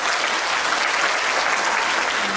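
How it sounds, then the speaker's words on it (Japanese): Concert audience applause for a singer, a loud, dense wash of hands clapping from a full hall, sustained evenly without a break. "拍手でいっぱい応援してくださいね"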